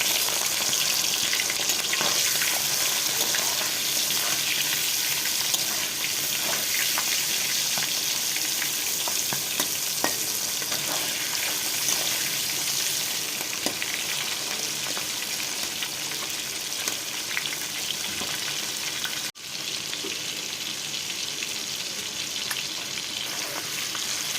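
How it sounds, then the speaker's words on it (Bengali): Prawns fry in hot oil in a wok with turmeric, giving a dense, steady hiss and crackle close by, with occasional small pops and a brief clatter near the end. "কড়াই তেলটা গরম হয়ে গেছে। চিংড়ি মাছটা দিয়ে দিচ্ছি"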